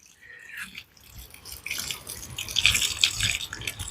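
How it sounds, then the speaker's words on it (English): Water poured from above onto dry compost in a potted plant, a soft splashing trickle that builds and grows brighter toward the end, close by with no talking. "I'll put some water on it and you'll see."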